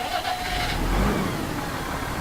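A big Valtra tractor engine idles in Farming Simulator 2017 with a steady, low, rumbling drone that swells slightly partway through, heard alone and at an even level.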